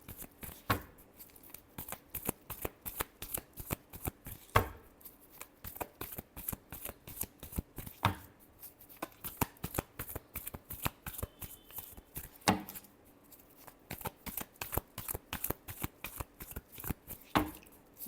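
Tarot cards being riffled and shuffled, with a steady run of crisp, rapid flutters and occasional sharper snaps, close and clear with no voices.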